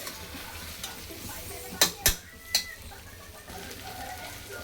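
Masala spices sizzle softly in hot oil in a pan, a faint steady frying hiss broken by a few sharp clinks of stirring near the middle.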